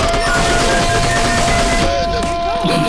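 Rapid bursts of golden AK gunfire in a Call of Duty game, dense continuous automatic shots rattling loudly and close over game background sound.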